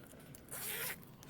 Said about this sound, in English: I'll go ahead and add this zipper pull as well so I don't forget.